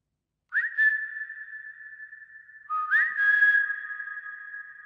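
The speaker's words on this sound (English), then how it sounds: "the whistle now sounds like it's being played back within that space" A long sustained human whistle rings out in two held tones, drenched in convolution reverb modeled on the vast stone interior of York Minster, its sound lingering and diffuse with no talking.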